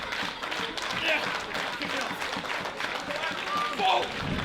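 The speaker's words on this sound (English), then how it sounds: "And the crowd getting behind Casino Brutale." A wrestling crowd at a Great North Rumble event in Newcastle claps and cheers, a dense patter of many hands rising and falling in waves while a commentator talks over it.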